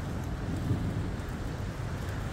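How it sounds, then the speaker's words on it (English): Heavy rain pouring down outdoors in Pattaya, Thailand, a dense, steady roar of water that fills the whole stretch evenly with no breaks and no voices. "It's just absolutely hoed it down. Proper rain."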